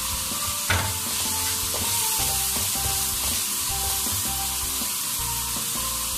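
Julienned ginger and green chillies frying in a chicken karahi, a steady loud sizzle with stirring scrapes and clatter, close and continuous with no talk.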